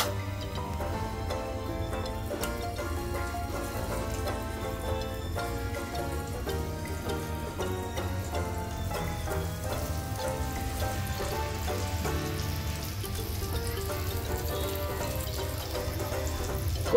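Semolina-coated prawns frying in hot oil on a gas stove give a steady, dense sizzle that runs unbroken through the whole stretch at an even, moderate level, with faint tonal sounds in the background and no talk.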